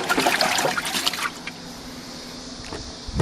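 Water sloshes and trickles inside a Maytag wringer washing machine loaded with dirty rags, a splashy churning burst that fades to a lower gurgling wash, with no talking.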